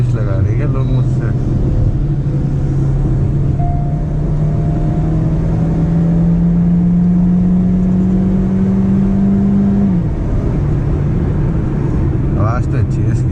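A Kia Seltos GT 1.4 GDI turbo with a DCT gearbox accelerates, its engine drone climbing steadily in pitch for about ten seconds before dropping off as it shifts, with a constant cabin rumble underneath.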